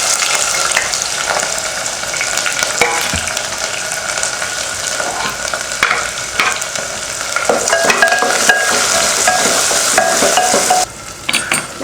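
Onions sizzle and fry in a pan with cloves, curry leaves and chillies while being stirred for a pepper chicken curry, a close, continuous crackle with scraping stirs throughout and no talking.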